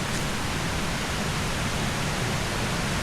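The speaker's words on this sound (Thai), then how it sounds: "น้ำตกชั้น3ครับ" Third tier of Huai Mae Khamin waterfall, a steady broadband rush of falling water, close and constant with no voices.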